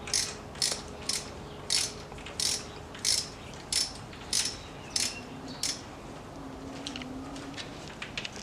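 Ratchet clicking as it loosens a spark plug on a Mercedes W204 C63, a dozen evenly spaced sharp ratcheting clicks close up, then faint metallic fiddling and light tool movement.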